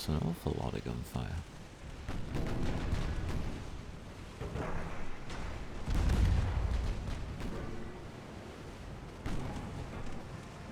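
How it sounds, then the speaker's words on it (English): Naval battle in the video game UAD, with sustained heavy gunfire and artillery rumbling loudly, big booming impacts around the middle, while someone talks over it. "That's an awful lot of gunfire."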